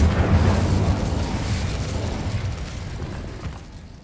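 A fiery spell blast from a Harry Potter style wizarding game set in a mooncalf cave, a loud whooshing burst that fades slowly over several seconds, with no talk.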